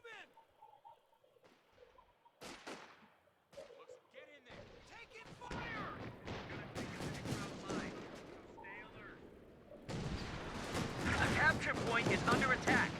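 Gunfire and impacts in a war video game, soldiers advancing on enemy lines, with sharp irregular bursts that thicken into a dense, loud barrage toward the end beneath shouted voices.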